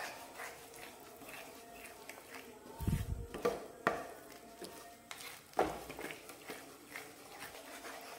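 Ladle scraping and clanking in a heavy, thick-bottomed kadhai as gram flour is stirred and roasted over medium heat, a few sharp metallic knocks and scrapes over a soft background.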